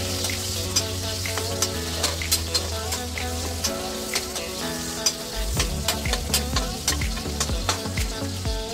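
Garlic and then onion sauté in a pan of hot oil for ginisang ampalaya. A steady, close sizzle runs throughout, broken by repeated spatula scrapes and clinks, with no talking.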